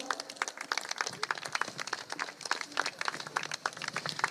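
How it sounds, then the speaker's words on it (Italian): Sparse, scattered hand claps from a modest audience at a live beauty pageant final in Cittadella, Padova, fairly faint and uneven throughout, with a few voices murmuring underneath. "un applauso per la giuria social"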